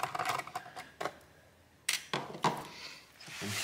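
A screw is worked loose from the underside of a Gigabyte G5 laptop, heard as a string of close, sharp clicks and ticks in uneven bursts separated by short quiet gaps.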